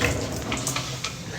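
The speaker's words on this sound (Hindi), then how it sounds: "पानी भरने लगी हो" Tap water running steadily while a container is being filled indoors in a dark home, a continuous broadband rush that stays fairly loud and even throughout, with no talking over it.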